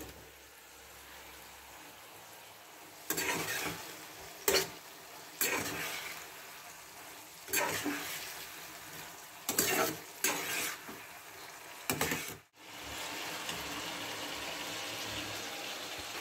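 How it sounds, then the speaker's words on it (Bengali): Marinated cauliflower sizzles in a hot pan while a utensil stirs and scrapes it in several bursts, each scrape loud and close over a steady low frying hiss, with a short quiet gap near the end. "মেরিনেট করা কপি আমি দিয়ে দিচ্ছি"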